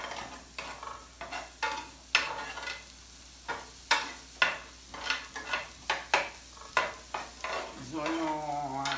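Onions frying in a pan for cabbage rolls, with repeated scraping stirs over a soft sizzle, the strokes coming in a fairly regular rhythm, close and alone.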